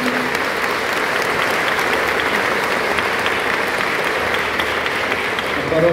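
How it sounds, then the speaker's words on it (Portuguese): Congregation applauding during a solemn Mass for grandparents in Sant'Ana Cathedral, a dense, steady wash of clapping filling the whole stretch with reverberant room tone and no break. "Uma salva de palmas"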